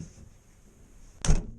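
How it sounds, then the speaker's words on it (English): A Morris Minor car door slams shut once, a single loud, close thud arriving after a second of quiet outdoor ambience, with its echo trailing briefly. "I can now shut my door without worrying it's going to fall off any second"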